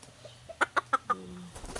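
Champion fighting roosters give a short run of four sharp, evenly spaced clucks, close and moderately loud, followed by a softer scuffle of movement.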